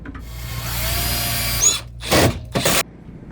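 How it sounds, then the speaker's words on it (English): A power drill pre-drills a pilot hole in an RV cabinet for machine screws, running steadily up close for over a second before several short, sharp bursts of drilling. "I'll pre-drill right here."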